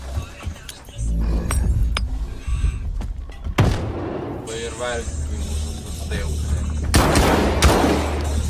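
Gunfire in the game Stalker 2, loud bursts and booming shots scattered through the clip over constant game noise, with someone talking over the action.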